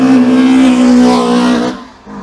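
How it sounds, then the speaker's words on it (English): A loud car engine roars steadily at high revs at Goodwood Motor Circuit with a strong sustained tone, then cuts off abruptly near the end, leaving quieter rumble. "Just listening to those engines."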